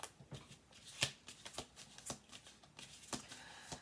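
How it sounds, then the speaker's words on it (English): Playing cards shuffled and falling onto a table in a tarot-style reading, a series of crisp riffling snaps and flutters repeating through the whole stretch, close and fairly quiet with no talk. "Do one more shuffle for this."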